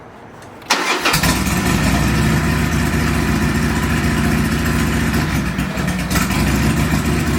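A motorcycle engine fitted with a Cobra El Diablo 2-into-1 exhaust cranks and fires up after a quieter moment, then settles into a loud, steady, throbbing idle close by, with no talking.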